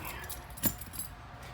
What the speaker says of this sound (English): Keys in my pocket.